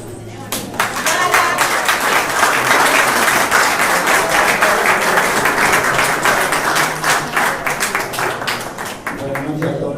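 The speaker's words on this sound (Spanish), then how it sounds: "un aplauso que tenemos" Loud, close applause from the audience at the inaugural session of a town council in a hall, with many hands clapping in a sustained, rhythmic-edged wash for the full stretch.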